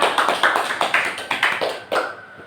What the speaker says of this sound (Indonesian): Luar biasa sekali, tepuk tangan Hilda.